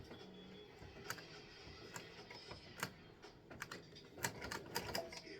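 An embroidery machine sews red baseball stitching while a thread nest forms under a misloaded bobbin, giving faint, irregular rapid ticks and taps at low volume.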